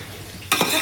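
A short, loud burst of sizzling as ginger, garlic and spice powders such as chilli and turmeric hit hot oil in a pan, starting abruptly after a quiet moment.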